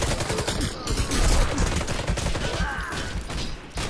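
Rapid, dense gunfire from the Warface shooter game, with overlapping automatic bursts rattling loudly and continuously at close range.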